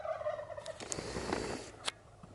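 Wild turkey tom, an okay-sized bird, gobbling once in a rattling burst at moderate distance outdoors during a hunt, faint and alone, with a soft click after it.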